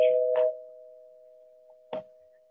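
A doorbell rings out in a steady tone that hangs on for the whole stretch, with a couple of soft knocks or clicks over it, and nobody talking.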